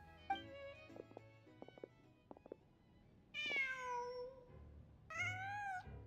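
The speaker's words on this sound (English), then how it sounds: "Just a cat." A cat in the video game Genshin Impact meows twice in long, clear, rising calls. The meows come over a quiet backdrop of game sound effects and soft scattered clicks.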